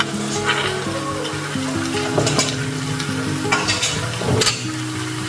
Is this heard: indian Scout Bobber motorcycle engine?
no